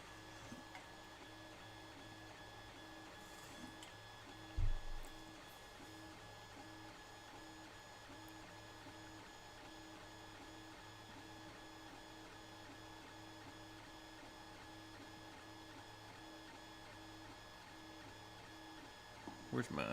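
A 3D printer lays down its last top layer, a steady faint mechanical hum with tonal stepper-motor whine running unchanged throughout, plus a couple of brief soft knocks, quiet and close.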